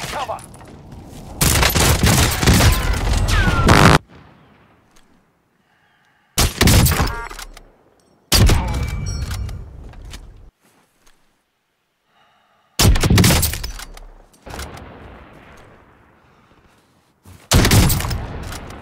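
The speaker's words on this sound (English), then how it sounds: "Enemy precision airstrike, take cover." Airstrike explosions and gunfire in a shooter video game, a sniper-and-pistol challenge, come in several loud, broadband bursts a few seconds long, separated by near-silent gaps and trailing rumbles.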